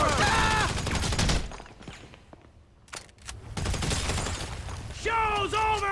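A burst of rapid gunfire erupts in the Grand Theft Auto 5 video game, followed by scattered sharp shots and mechanical clatter, with voices shouting before and after.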